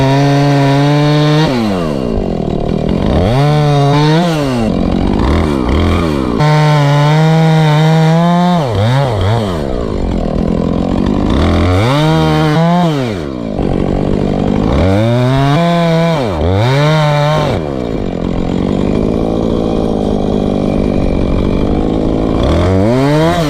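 Chainsaw cutting wood in the woods, its engine climbing and dropping repeatedly as it bites into the log and idles between cuts, loud and close throughout.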